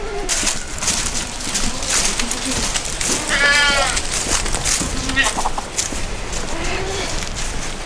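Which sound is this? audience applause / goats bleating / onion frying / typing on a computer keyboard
goats bleating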